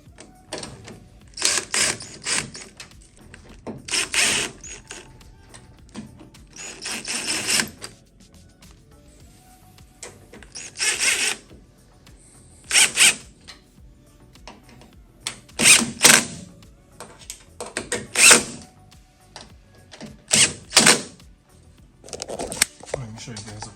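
Hand ratchet driving screws into a door rail on a black Ford Mustang, heard as repeated bursts of quick clicking separated by short pauses, close and fairly loud, with occasional talk in between.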